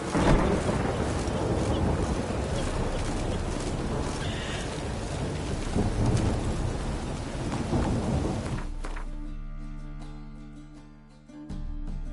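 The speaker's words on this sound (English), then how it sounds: "It's raining again." Loud rolling thunder and heavy rain pour continuously in The Witcher 3 video game, the storm filling most of the stretch before giving way to quieter tonal sounds near the end.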